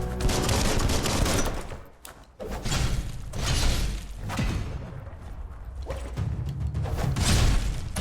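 Dense, continuous weapon fire in the video game Biomutant, loud bursts and rattling shots filling the whole stretch with a brief dip in the middle.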